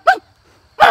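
Two short, loud bursts of a person imitating a dog's bark, separated by a brief silence and voiced close up.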